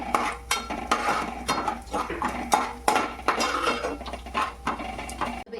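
Dry fruits being roasted in a pan over a low gas flame, stirred with a metal spoon that clinks and scrapes in a steady, irregular rhythm, close and fairly loud, with no voices.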